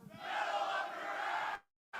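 A live-stream crowd shouts a chant back in unison, a loud sustained mass of voices holding for about a second and a half before cutting off, then returning briefly.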